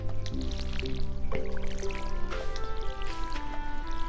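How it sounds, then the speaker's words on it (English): Water trickling and dripping from a watering can onto crops in Stardew Valley, soft splashy droplets repeating under steady background music. "Water the living crops"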